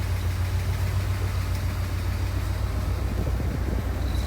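A Mercedes 380SL's engine idles steadily, a low continuous rumble close by with no talk, the hum holding even throughout.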